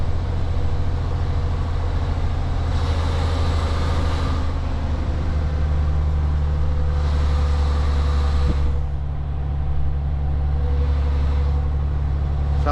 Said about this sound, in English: Let's put it into second reverse so we're a bit quicker reversing.